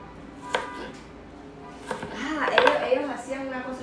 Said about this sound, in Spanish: cómo picar la cebolla para que no se te.